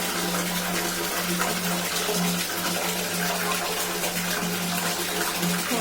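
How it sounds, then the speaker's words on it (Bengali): Hot water pours steadily from a tap during a child's bath, a loud, unbroken rushing gush filling the whole stretch with no pauses and no voices. "মানে গরম জল বেরোচ্ছে প্রচুর গরম জল বেরোচ্ছে"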